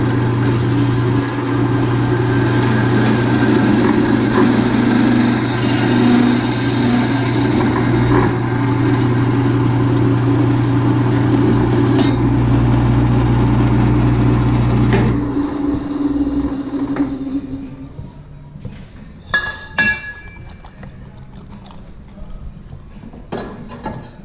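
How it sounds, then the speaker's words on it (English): A machine cutting through the spot-welded balance weight on a drive shaft during a rebuild: a loud steady humming whine for about fifteen seconds, then it winds down, leaving scattered metallic clanks and handling noises. "Yeah, I'm gonna cut right through it. It's spot welded on there."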